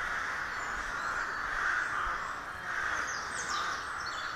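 Crows caw in a city park where a falcon is being flown, the calls sounding fairly distant over a steady outdoor wash of background noise, with a few brief higher chirps toward the end.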